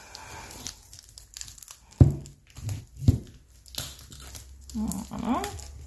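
Crinkly plastic packaging from a craft and stationery haul being opened, with scattered crackles, rustles and a couple of sharper tearing pops, fairly close and intermittent.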